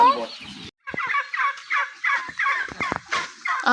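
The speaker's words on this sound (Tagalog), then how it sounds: "Ayan ang pabo." Repeated turkey gobbles, loud and close, in a rapid rattling series with brief pauses between calls.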